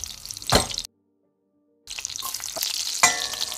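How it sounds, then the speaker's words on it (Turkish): Two garlic cloves drop into a tablespoon of olive oil that has barely heated, giving a crackling sizzle with sharp spattering bursts, interrupted by a full second of silence before the frying resumes. "Daha yağ erimeden 2 tane sarımsağı patlatarak"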